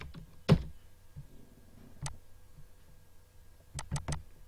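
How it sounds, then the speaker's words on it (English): A number is typed on a computer keyboard: a handful of sharp, quiet key taps, one firmer click early and then a quick cluster of three near the end, with soft background noise between. "You can type the number"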